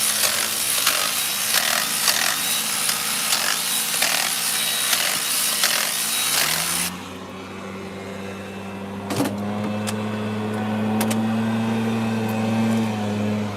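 A Milwaukee power tool breaks free the 12 mm bolts on a Toyota Prius during a head gasket job: a loud, harsh rattling burst for about seven seconds, then a steadier droning hum with a few sharp clicks, no talk.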